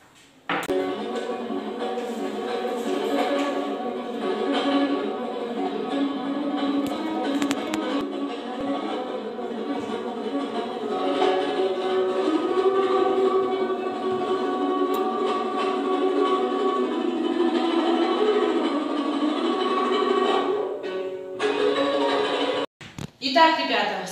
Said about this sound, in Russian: Это звуки домбры, казахского национального музыкального инструмента,